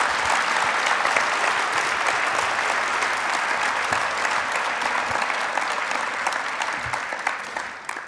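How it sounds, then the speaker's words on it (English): Luncheon guests at a wine industry symposium awards ceremony applaud, a full, sustained round of clapping from a large room that thins slightly toward the end. "please join me in recognizing, with some applause, the great contributions those two women made to our industry"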